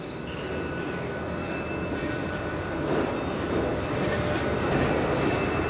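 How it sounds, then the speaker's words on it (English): Railway wheels grinding on track near freight locomotives in the Berlin rail yard area, a steady broad rumbling roar with faint high squealing tones running continuously at moderate level, no talking. "Sounds like a wheel grinder."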